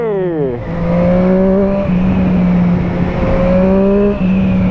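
A Triumph Street Triple RS 765 triple-cylinder motorcycle revs hard in third gear, its engine note climbing in pitch, dropping on a gear change, then pulling steadily again, loud and close, with wind rushing over it.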